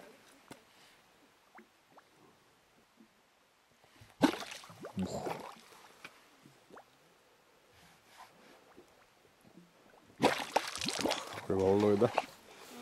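Exhaled air bubbling and gurgling up from under ice, in two loud close bursts of churning water separated by quieter stretches with faint background noise.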